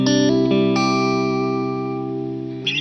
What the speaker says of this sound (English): What I really love about the Myraid Fuzz is that it cleans up super beautifully.